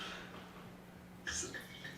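Red wine poured into a glass during a blind tasting, a brief, faint liquid pour with a couple of soft splashes over low room hiss.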